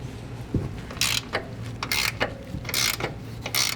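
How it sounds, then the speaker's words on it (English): A 21mm ratcheting wrench clicks while loosening the top shock nuts on a 2020+ GM 2500 truck, in short bursts of rapid ratcheting, fairly close and moderately loud. "you're gonna use a 21mm ratcheting wrench and take off the nuts on top of the shock"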